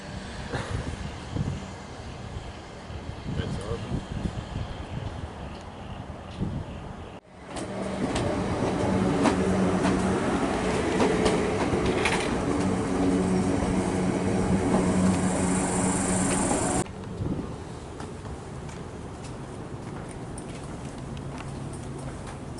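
Melbourne suburban train pulling away from Upfield station, heard from on board: a loud steady rumble of wheels and motors that swells after a brief cut, with a high whine rising mid-run.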